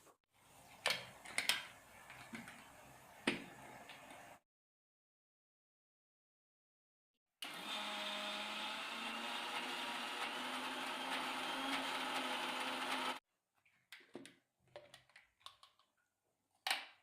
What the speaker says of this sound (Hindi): अब हम दाल को पीस लेंगे मिक्सी में।